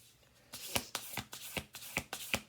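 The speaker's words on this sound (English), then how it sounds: "we're going to do one more shuffle" Oracle cards being riffled and shuffled by hand, a quick series of crisp snapping flicks in an uneven rhythm, close and clear with no talking.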